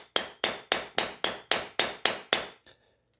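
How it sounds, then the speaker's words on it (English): A hammer taps the wedge of an Uberti black powder revolver nine times in an even rhythm, each a sharp, bright metallic clink with a short ringing tail, close and clear with no voices. "I ended up merely taking the hammer and hitting the wedge, not in the middle, just on the ends here."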